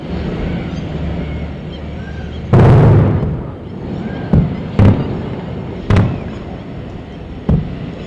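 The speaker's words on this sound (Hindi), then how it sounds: "जोरदार धमाके जो आप सुन रहे हैं, दरअसल ड्रोन अटैक जो पाकिस्तान की ओर से किया गया है" Loud booming explosions from the interception of a drone attack near Jaisalmer. One big blast is followed by several sharper, distant-sounding bangs spread over a few seconds, over a constant background rumble.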